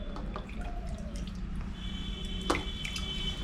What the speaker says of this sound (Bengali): এই যে মেয়েকে এখন স্নান করাচ্ছে মা, দেখো